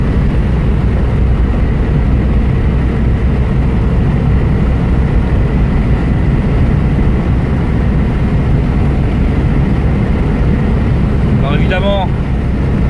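A vehicle engine pulls away under light throttle, a steady low rumble that carries on loud and close from start to finish, with a brief high squeal near the end.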